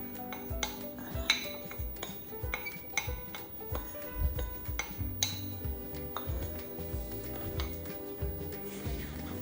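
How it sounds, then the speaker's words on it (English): Spoon stirring corn flour into a quarter cup of milk in a bowl, with repeated clinks and scrapes of metal against the bowl, close and rhythmic. "in that 1/4 cup of milk, I added 2 tablespoons of corn flour and mixed it well"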